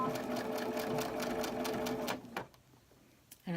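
A sewing machine stitches a baby burp cloth at a quarter-inch seam with 2.5 stitch length, running in a steady, close, continuous whir for about two seconds before stopping, followed by quiet and a brief click.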